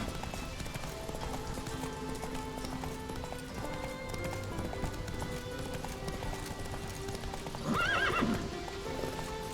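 A horse gallops with steady clip-clop hoofbeats in The Witcher 3 video game, then lets out a brief, loud neigh near the end over a continuous background of game ambience.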